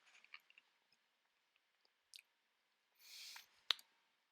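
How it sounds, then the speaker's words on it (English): Trading cards for a Digimon TCG match being shuffled between games: faint, scattered soft clicks and flicks, then a short papery riffle burst and a sharp snap, all quiet and close with no talking. "Players shuffle up for game 3."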